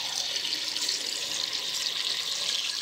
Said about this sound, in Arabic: نزيد لهم ثاني ما سخون